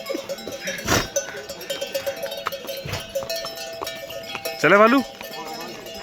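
Bells on a pack horse jingle as it moves off on a mountain path near Badrinath, with a clear burst around the middle and end, mixed with clip-clop and people talking nearby.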